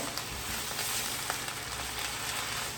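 Whole Savoy cabbage sautéing with a splash of water in a small frying pan, a steady close sizzle and crackle with soft spits throughout, no voices.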